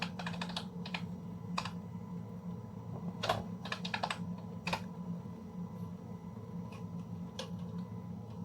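Keystrokes on a computer keyboard as a ping command is entered at a command prompt: scattered clicks and short bursts of typing, fairly close and moderately loud over a steady low hum, with no talking.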